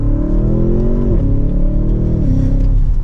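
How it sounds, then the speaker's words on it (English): A 2024 Audi S8 accelerating hard in sport mode, its engine note rising loud and steady inside the cabin, with two audible upshifts dropping the pitch before it climbs again. "let's put it into sport mode here and give it some gas"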